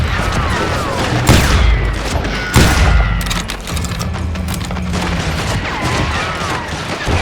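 Gunfire in the Western shooter Call of Juarez Gunslinger: sharp, loud shots and volleys, with heavy blasts near the first and third seconds, over a dense, continuous battle din.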